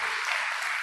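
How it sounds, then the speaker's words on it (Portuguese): Church congregation applauding together, a dense steady wash of many hands clapping at close range, with no pauses over a short burst. "dê um forte aplauso ao Senhor"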